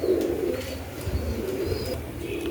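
Pigeons coo softly and continuously close by, with low, murmuring calls and a faint chirp or two in a quiet setting.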